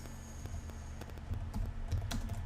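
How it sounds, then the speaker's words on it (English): Quick bursts of typing on a computer keyboard, a string of close, light clicks and clacks with a few louder taps toward the end, over a faint steady hum. "I can't even type"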